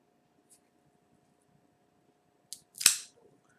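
The cap of a Vega Fina Nicaragua cigar is snipped with a cutter, a single sharp clip preceded by a faint tick, close and crisp against a quiet room.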